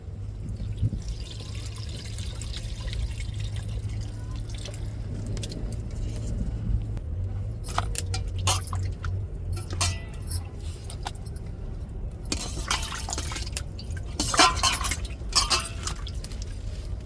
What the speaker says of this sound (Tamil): இப்போ நம்ம கரைச்சி வச்ச புளியை இருத்து எடுத்துக்கிடுவோம்.